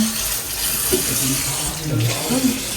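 Tap water runs steadily into a sink while dishes greasy with cooking oil are washed, a continuous hiss and splash with soft clatter, close by, with people talking over it.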